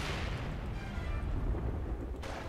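Mortar fire in Company of Heroes 2, a dense, rumbling barrage of booming impacts and blasts layered into a continuous loud battle din.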